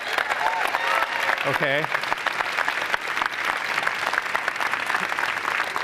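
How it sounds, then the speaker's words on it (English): Conference audience at a Tableau event applauds, a broad continuous clatter of many hands throughout, with a brief spoken word near the start over the clapping. "let's give them a round of applause as well"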